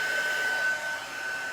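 A hair dryer blows steadily on chalk craft work, a continuous close whoosh with a thin high whine running through it, holding level for the whole short stretch with no talking.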